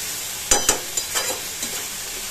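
Soybean chunks, potato, carrot and beans fry on a high flame. A steady sizzle runs under a few quick scraping stirs from a spoon over a couple of seconds, with no voices.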